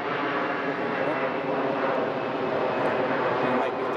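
Steady broadband roar of a plane passing over a large caravan campsite near Düsseldorf, a continuous loud drone that holds level throughout with no talk.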